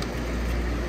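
An air conditioner compressor runs steadily nearby, drawing about 10 amps, a constant broadband hum with a low rumble and no talking over it.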